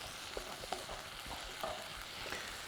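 Lamb filling fries in a hot pan, a steady broadband sizzle with occasional soft stirring knocks and clicks, fairly close and even in level, with no talk.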